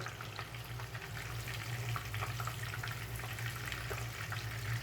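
Fish pieces frying in hot oil in a pan, a steady close crackling sizzle with bubbling and a low constant hum beneath.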